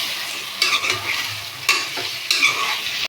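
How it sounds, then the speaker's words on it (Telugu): Cooked chicken being stirred into gongura curry in a pan, a steady sizzle with scraping spoon strokes at a few points, close and moderately loud, with no talking. "ఇప్పుడు ఉడికించుకున్న 1 kg చికెన్ని ఇందులో వేసుకోవాలి, కలుపుకోవాలి"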